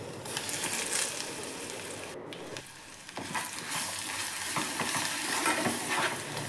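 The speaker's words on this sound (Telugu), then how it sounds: "అందులోకి కొత్తిమీర పచ్చడి వేయాలి. 2-3 నిమిషాలు బాగా వేయించాలి." Coriander chutney fries with red chillies in a pan as it is stirred, a dense continuous sizzle and scraping that stays fairly loud throughout, with a brief dip in the middle.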